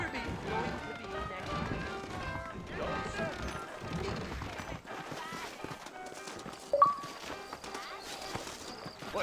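Horses galloping in Red Dead Redemption, with steady hoofbeats and clatter under game music and character dialogue, ending in a sharp knock.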